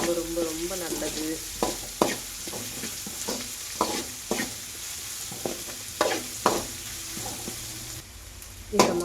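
Frying over a medium flame with repeated stirring, as a spoon knocks and scrapes the pan in regular strokes above a steady sizzle, close and clear.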